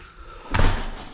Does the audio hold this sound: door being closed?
yes